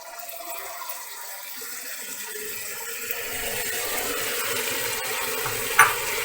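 Cumin seeds hit hot oil in a pan and sizzle, a soft hiss that rises and thickens as they are stirred, with a small clink near the end.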